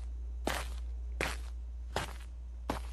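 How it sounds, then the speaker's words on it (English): Footsteps on a Fortnite Creative horror map, four distinct, evenly spaced steps close by over a low steady hum, with no talking. "I hear what sounds like footsteps."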